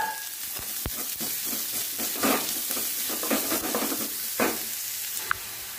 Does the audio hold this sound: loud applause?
no